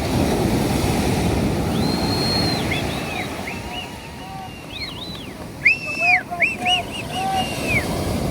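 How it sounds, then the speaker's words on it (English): Shore break surges onto a sandy beach at Makapu, Molokaʻi, at night as a steady, fairly loud wash of surf and wind, while high whistling tones and voices rise over it in the later half. "There's a bit of a shore break that's difficult to see with the darkness."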